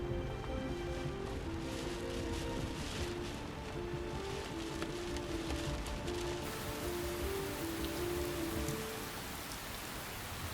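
Steady rain patters on a surface throughout, with a low hum and faint tonal sounds underneath that fade partway through.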